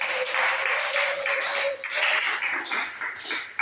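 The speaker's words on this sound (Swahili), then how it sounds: "Mpe Yesu makofi." A church congregation at Sunday Mass claps together, a dense burst of applause that holds steady, dips briefly, then swells again before trailing off.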